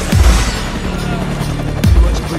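Two heavy booming gunshots from a Resident Evil 5 Versus match, one near the start and one about a second and a half later, over a continuous game background din.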